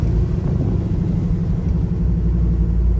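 A 1966 Chevrolet Nova with a 700R4 automatic overdrive transmission drives along, its engine giving a loud, steady, close low rumble with no break.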